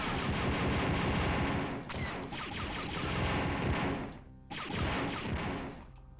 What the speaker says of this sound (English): I think it's a grenade launcher.